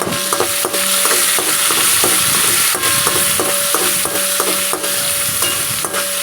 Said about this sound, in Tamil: வெங்காயத்தையும் அதில் சேர்த்து நல்லா விட்டுடலாம் நல்லா வதங்கட்டும்